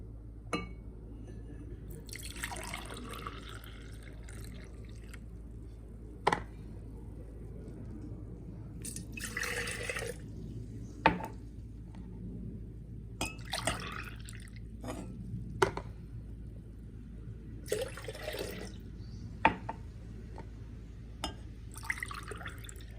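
Strained grape juice is poured into a glass for measuring, heard as quiet, intermittent splashes and drips in short bursts separated by near silence.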